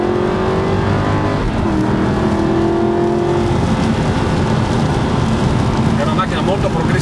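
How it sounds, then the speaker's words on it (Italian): An Aston Martin V8 Vantage engine roars steadily and loudly while the car accelerates, a continuous dense rumble with a rising tone and no break. "possiamo sentire anche il rombo della vettura"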